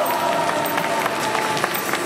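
A crowd cheers and applauds at an esports game event at G-Star 2021, dense continuous clapping and cheering with people talking over it.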